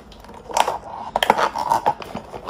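Several short, crisp snipping and crunching sounds at close range as scissors cut stiff plastic straps on a monster truck toy box, in irregular bursts with no talking.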